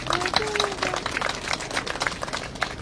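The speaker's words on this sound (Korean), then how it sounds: "수고했으니까 박수" Applause from a congregation gathered for an outdoor church service and picnic at a retreat center, a steady patter of many hands lasting a few seconds, with talk audible underneath.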